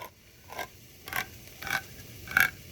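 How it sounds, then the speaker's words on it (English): A manual can opener cranks around a can in four short, squeaky scraping bursts, close and fairly quiet. "That's the sound of a can opener."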